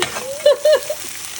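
Potatoes frying in a skillet, a steady sizzle with a few louder bursts partway through, close by.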